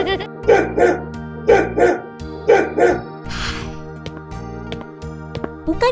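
Repeated barking in paired bursts, fairly close, over a steady background hum, with a brief hiss in the middle.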